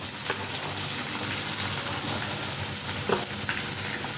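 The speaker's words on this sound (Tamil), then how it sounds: "வெங்காயம் நல்லா வதங்கட்டும்." Onions sautéing in a pan for crab masala give a continuous, even, close sizzle with a few soft stirring scrapes and no speech.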